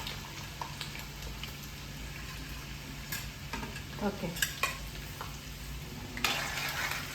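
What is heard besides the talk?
garlic crackling while frying in oil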